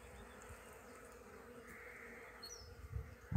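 Bees hum steadily among blooming village bushes outdoors, a soft continuous drone with no voices, a brief louder rustle near the end.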